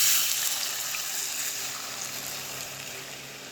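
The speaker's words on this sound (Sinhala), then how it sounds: "මම දැන් මේ වෙලාවේදී වතුර එකතු කරගන්නවා." Water is poured into a pot of mango curry, giving a steady, continuous rushing hiss that fades slightly toward the end, with no voices.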